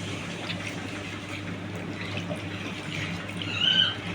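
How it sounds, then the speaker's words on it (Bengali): Water pours steadily into tomato-sauce gravy in a cooking pot for banana flower kofta curry, a continuous splashing trickle that swells briefly near the end. "এবার এখানে পরিমাণ মতন আমি জল দিয়ে দেবো।"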